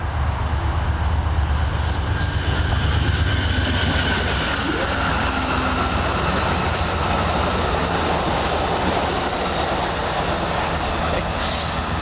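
A train passes nearby, giving a loud, steady rumble and roar that fills the whole stretch without letup, with no talk over it.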